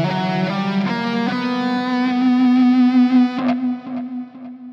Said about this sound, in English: Whereas a C harmonic minor scale has the raised 7th,